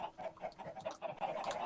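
Chickens in a Minecraft-style modded video game (Witchery mod) cluck in a steady stream of short, overlapping calls at moderate volume, with no talking.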